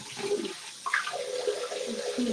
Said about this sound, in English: I'm turning the water on